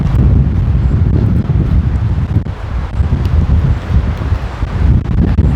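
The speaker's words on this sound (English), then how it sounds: "it's a bit windy in this area" Steady, loud wind buffeting the microphone outdoors, a continuous low roar with gusts that swell and dip throughout and no voices.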